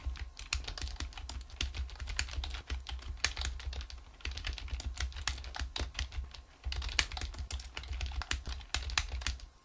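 Rapid clicking of a computer keyboard as slide text is typed into PowerPoint 2013, close and continuous with brief pauses between bursts of keystrokes.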